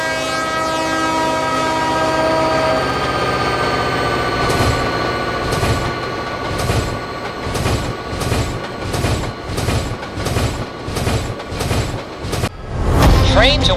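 A video game train rumbles past with a long horn blast, then rhythmic clickety-clack of wheels over rail joints, loud and close, ending in a heavy burst.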